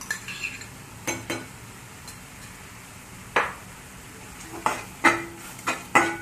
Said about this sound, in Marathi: ही पण आपण एक 2 ते 3 मिनिट फ्राय करत आहोत